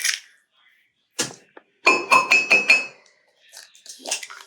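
Dishes clink and clatter as they are shifted onto a kitchen stove, with a quick run of ringing knocks in the middle and a few softer thuds before and after, up close with no one talking.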